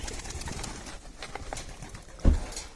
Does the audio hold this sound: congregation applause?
no